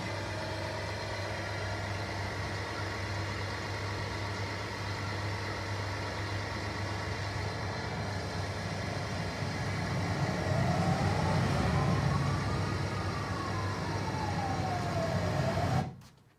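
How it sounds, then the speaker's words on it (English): A bus engine idles with a steady low rumble throughout, while a siren rises and falls faintly in the background over the second half, with no voices. "I'll pause for a second so you can hear the audios coming from the bus"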